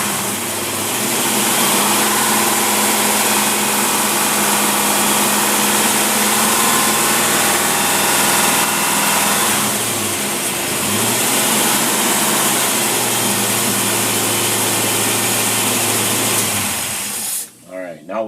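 A test motor fitted with a Holley double pumper carburetor with manual choke roars at sustained high revs, loud and steady, dips briefly, climbs again, then cuts off sharply at the end.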